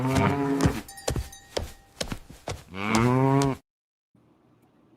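A cow mooing sound effect plays as long, loud lowing calls with clicky, rattling noises between them. One sustained moo ends in abrupt silence, and a faint low hum follows.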